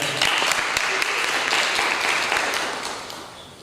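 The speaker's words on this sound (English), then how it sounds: "Let's give them a big round of applause." An audience applauds at a National Honor Society induction ceremony, a dense burst of clapping from a crowd in a hall that holds steady and then tapers off over about three seconds.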